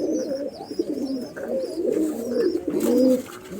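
Pigeons kept for sale coo steadily, with soft, rolling, overlapping calls close by and a few higher chirps above, no talking.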